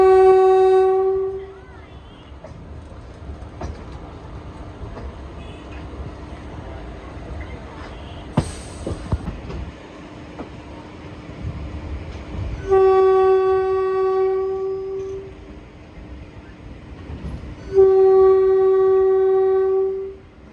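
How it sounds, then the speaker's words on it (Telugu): Santragachi–Secunderabad summer special train heading onto the Guntur line, its loud horn blaring in three long blasts that rise over steady rolling rail noise, with brief voices in between. "మన ట్రైన్ టువర్డ్స్ గుంటూరు వైపు వెళ్తుంది."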